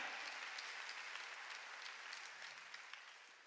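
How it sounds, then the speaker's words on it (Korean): A congregation applauds during a Korean Sunday church service at Jesus Central Church, a dense, steady wash of many hands clapping together that eases slightly toward the end, with no voices over it. "박수 치라 이게."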